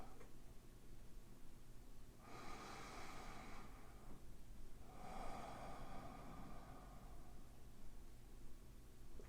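During a quiet guided relaxation, a person takes two slow, deep breaths that sound soft and close, with long airy draws separated by near silence.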